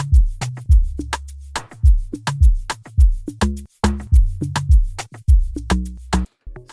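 A looping Afrobeat drum pattern with punchy kick and crisp percussion over a deep bass line and keys, steady mid-tempo groove playing loud with no voices.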